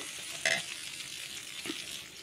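Green chillies dropped into hot oil with reddish fried onion, giving a steady sizzle with a sharp stir or clatter near the start and another brief stir later, with no talking.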